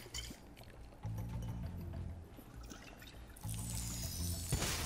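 Water pouring in the Spyro Reignited Trilogy video game, a soft continuous splashing pour that swells louder twice over a quiet game backdrop.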